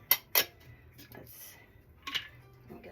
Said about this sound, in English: I'm gonna spoon some of the kiwi into my drink